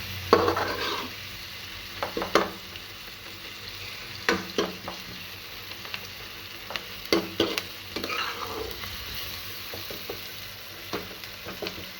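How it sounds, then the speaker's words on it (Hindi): Spices are stirred and cooked in a kadhai over a low gas flame, giving a soft sizzle punctuated by intermittent clinks and scrapes of a spoon against the metal pan. "हम इन सारे मसालों को अच्छे से मिक्स कर देंगे। और ध्यान रहे, हमारे गैस की आंच धीमी होनी चाहिए, जिससे हमारे मसाले कढ़ाई में चिपके नहीं।"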